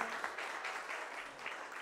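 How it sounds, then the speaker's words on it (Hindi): An audience applauds Geeta's father as he is called onto the stage at an event, a steady wash of clapping from many hands, moderately faint and continuous for a couple of seconds. "लेडीज एंड जेंटलमैन गीता जी के पिताश्री के जोरदार तालियां"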